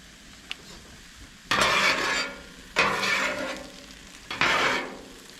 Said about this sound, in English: Now they're looking good and cooking up.